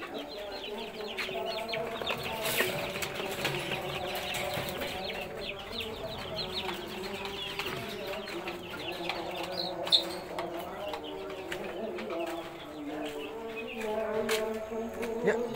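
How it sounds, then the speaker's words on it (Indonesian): Chickens cluck steadily throughout in a coop at night, with busy high-pitched chatter and a buzzing undertone; the sound is close and fairly loud, with no talking. "Tak tega ya aku ambil ayam ini."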